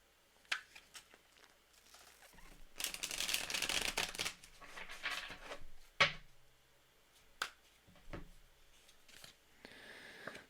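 Tarot cards shuffled by hand in quiet bursts, a long riffling flutter in the middle flanked by scattered snaps and taps, close and fairly soft with no talking.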